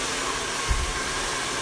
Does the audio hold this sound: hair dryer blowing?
yes